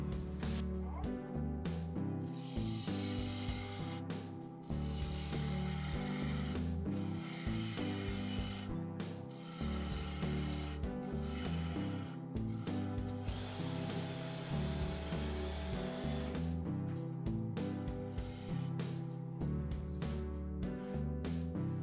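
A wood lathe turning a piece while cutting beads into the wood gives a continuous close whirring hum with scraping tool contact, interrupted by several short pauses and changes in pitch.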